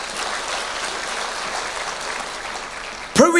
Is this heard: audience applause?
yes